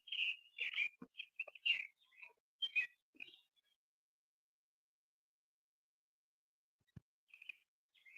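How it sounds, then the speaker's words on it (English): Birds chirp in the background with a few quick, high tweets and short whistled calls clustered in the first few seconds, fairly faint, followed by near silence and one more brief chirp at the end. "You can hear the birds."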